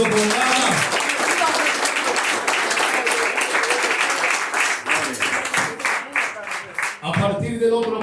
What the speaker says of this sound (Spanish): Un aplauso al Rey, pero déselo con ganas.